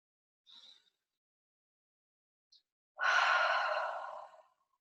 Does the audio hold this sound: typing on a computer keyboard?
no